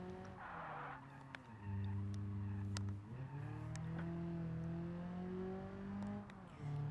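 A car engine in a racing video game revs and drones steadily, its pitch rising and falling through gear changes, with some tire skidding; quiet and alone, no talk.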